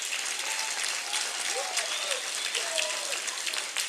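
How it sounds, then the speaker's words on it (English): A school audience at an academy speakers' event claps steadily for a guest, a dense continuous wash of hand clapping at moderate level with a few brief murmurs and squeaks mixed in. "Would you please give him another hand clap?"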